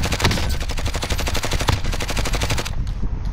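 Rapid automatic gunfire in a video game, a dense unbroken burst of loud shots at a fast regular rhythm lasting nearly three seconds and then stopping abruptly.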